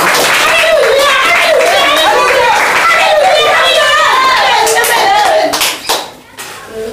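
A church congregation applauds, with dense, steady clapping mixed with voices that carries on for several seconds before thinning out near the end.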